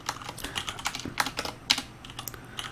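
Typing on a computer keyboard while entering text into a Java program, a quick irregular patter of clicking keys with a few sharper louder strokes, close and alone with no talk.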